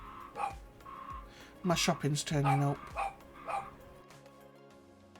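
A dog barks a few times nearby, with short yips mixed among them, while a person talks briefly in a room.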